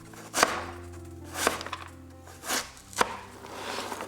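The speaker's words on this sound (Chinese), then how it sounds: "切成细条。" A knife chops peeled fresh taro into thin strips on a board, giving four sharp, separate cuts spaced about a second apart, close and fairly quiet.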